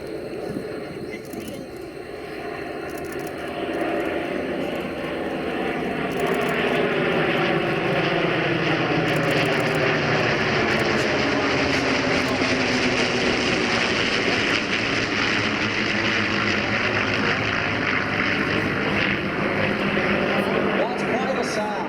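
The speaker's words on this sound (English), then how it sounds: "Look and listen to the sound of Merlin engines and Pratt & Whitney radials." A five-ship WWII formation of P-51 Mustangs, a Spitfire and an F4U Corsair roars past, Merlin engines and Pratt & Whitney radials building from a distant drone to a loud sustained growl with a sweeping pitch, while a voice talks underneath.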